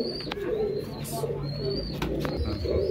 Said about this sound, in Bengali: এটা পাকিস্তানি, এটা নর কবুতর রামপুরি।